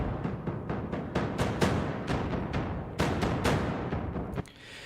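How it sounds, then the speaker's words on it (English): Maliki Kontakt Ignite epic drums built from layered thunder and fireworks samples: a series of loud, booming hits in irregular rhythm, each crack ringing out into a rumbling tail before a final hit fades away. "these are basically layered samples of thunder and fireworks"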